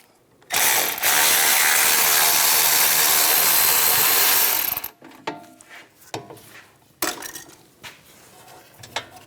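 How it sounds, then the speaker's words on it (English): Socket ratchet with a T55 bit loosening rear caliper bracket bolts on a 2014-2023 Jeep Cherokee: a loud, sustained grinding burst lasting about four seconds, then scattered metallic clicks and clanks as the tool is repositioned. "Using a T55, we'll take those bolts, loosen them up."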